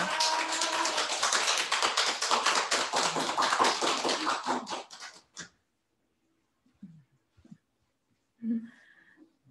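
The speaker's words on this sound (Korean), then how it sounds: "박수로 청하도록 하겠습니다" An audience applauds to welcome a speaker, with dense rapid clapping for about five seconds that stops abruptly, followed by a few faint sounds and brief murmurs in a quiet room.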